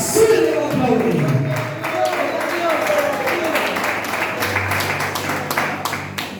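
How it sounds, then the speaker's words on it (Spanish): A church congregation claps together in a dense, sustained patter while voices carry on over and among the applause. "Aplauda si le va a aplaudir, aplauda si le va a aplaudir."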